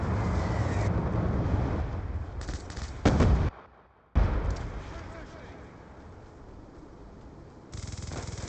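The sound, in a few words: Hellstorm missile strike explosions in a video game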